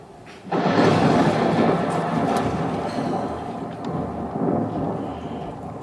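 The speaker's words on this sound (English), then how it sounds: "Alas, the storm has come again." A thunderstorm stage effect in a community theatre production of The Tempest opens with a sudden loud crack that swells into a long, deep rolling rumble and slowly fades, with no voices.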